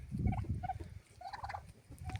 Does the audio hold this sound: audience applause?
no